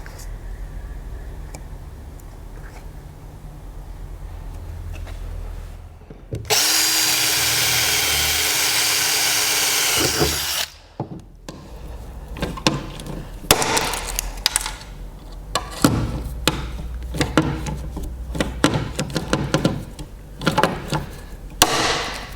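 A riveter sets aluminium rivets into a metal plate on a fishing boat. A loud, sustained whine lasts a few seconds, then a run of sharp metallic clicks and snaps follows.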